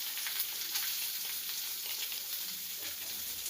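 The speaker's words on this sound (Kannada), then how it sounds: "ಚೆನ್ನಾಗಿ ಫ್ರೈ ಮಾಡೋಣ." Curry leaves and onion fry in hot oil in a pan, making a continuous close sizzling hiss with faint crackles and no talking.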